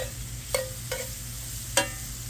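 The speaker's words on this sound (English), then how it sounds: "So right now we're gonna throw our mushrooms in. Just like that. Get them nice and mixed." Mushrooms sizzle steadily in brown butter in a pan while three sharp scraping stirs cut in at close range, with no talking.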